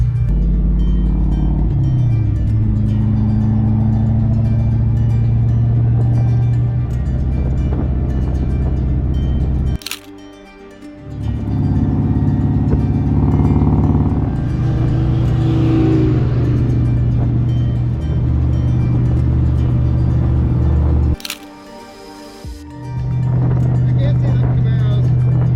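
Drag and drive race cars roar as a loud, steady engine drone, with two brief drops where the sound cuts out before the engines swell back, while people talk over it.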